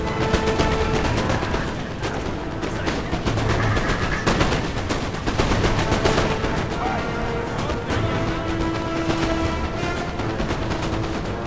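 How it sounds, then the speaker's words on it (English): Continuous musket volleys crackle and pop in the battle game Napoleon Total War, ragged bursts of overlapping gunfire rolling on without pause, with occasional heavier booms under the din. "So my guys are just breaking them with volley after volley."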